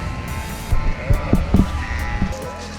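Sheep bleating in an open field among a grazing flock with donkeys and a shepherd nearby, several short bleats close by over steady outdoor ambience, with faint speech in the background.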